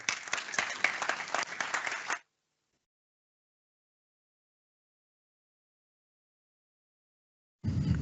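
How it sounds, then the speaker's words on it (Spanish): A seminar audience gives a burst of applause lasting about two seconds, fairly faint, followed by a long silence before a short low sound. "señora Gabriela Navarro de Proba Consulting, para quien pido un fuerte aplauso."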